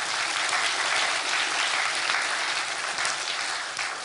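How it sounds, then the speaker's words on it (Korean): A church congregation at a Sunday service at Songdo Canaan Church claps steadily and heavily for about four seconds, a dense, even round of applause with no talking over it. "영광에 박수합시다."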